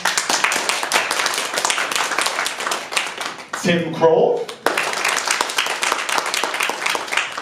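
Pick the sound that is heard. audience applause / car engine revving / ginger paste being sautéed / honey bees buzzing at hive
audience applause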